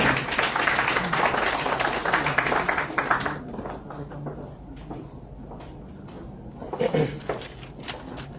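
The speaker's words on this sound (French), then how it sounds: "Applaudissements pour lui," Audience applause at a book signing and dedication event, a dense burst of clapping for about three seconds that thins into scattered claps and murmur, with a brief swell near the end.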